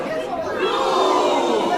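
A crowd at a Kraken wrestling event cheers and chatters loudly in a dense, continuous roar lasting under two seconds.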